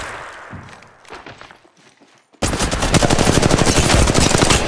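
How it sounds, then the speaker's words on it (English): Rapid automatic gunfire from the Apex Legends video game, quieter scattered shots and footsteps at first, then a sudden loud, dense burst of continuous firing that dominates the second half. "Shots fired at me"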